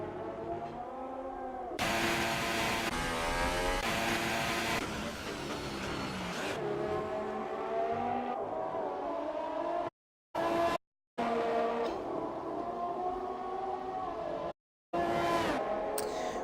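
Race car lapping the Austrian Grand Prix circuit in a racing video game, with a loud, continuous engine whine rising and falling through gear changes, briefly cutting out a few times, while a commentator talks over it.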